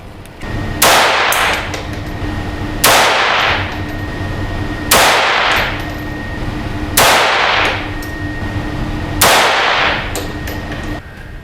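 Pistol shots at an SK pistol match, five loud close reports spaced about two seconds apart, each with a sharp crack and a ringing metallic tail over steady background noise.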